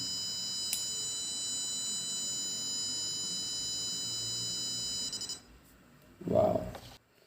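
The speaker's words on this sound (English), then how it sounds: "See, buzzer is started." A buzzer on an Arduino smoke and LPG detector with an MQ2 sensor sounds as a steady high electronic tone for about five seconds, then cuts off, followed by a brief low noise.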